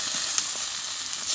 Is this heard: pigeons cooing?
no